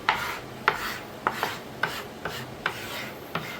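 A hand scraper drags across the old wood of a family heirloom cradle in repeated short rasping strokes, about seven scrapes in a steady rhythm, close and fairly loud with no talk.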